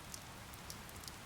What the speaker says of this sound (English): It's raining, Professor.